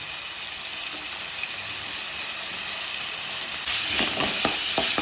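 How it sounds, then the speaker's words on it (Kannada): Onions frying in a pan for carrot biryani give a steady, close hissing sizzle that swells slightly louder near the end, with a few faint clinks over the crackle. "ಅದಾದಮೇಲೆ ಈರುಳ್ಳಿ ಹಾಕಿ ಹುರಿಬೇಕಿದೆ"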